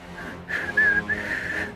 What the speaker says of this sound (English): She starts whistling.